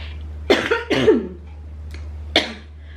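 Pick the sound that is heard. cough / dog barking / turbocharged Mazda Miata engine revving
cough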